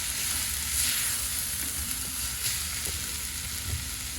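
Ground venison sizzling and frying steadily in a hot Dutch oven, a continuous close hiss with faint stirring scrapes and no talk.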